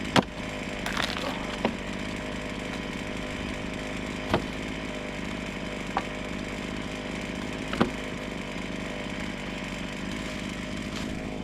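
A chainsaw in need of sharpening, cutting firewood, drones steadily at close range, its engine holding a constant rough whine with a few sharp knocks and revs along the way.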